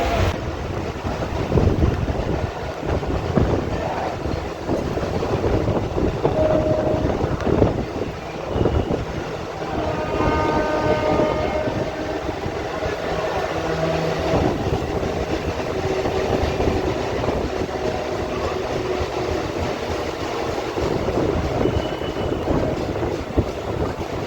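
Sealdah–Barddhaman local train running, a steady broadband rumble and rattle of carriages with wind noise throughout, loud and continuous with brief tonal squeals midway and no talk.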